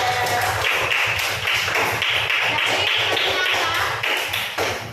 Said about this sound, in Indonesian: tepuk tangan untuk Naila